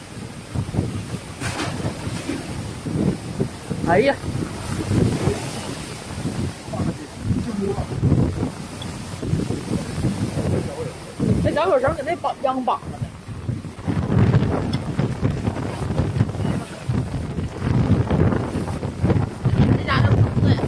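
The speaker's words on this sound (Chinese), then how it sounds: "这大风，" Strong gusts of wind blow outdoors around a rural yard and vegetable vines, buffeting the microphone in loud, uneven bursts while people call out and talk over it.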